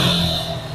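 A second-hand motorcycle in fresh condition with 6,000 km on it and an unopened engine, idling with a steady, close, moderately loud hum for under a second.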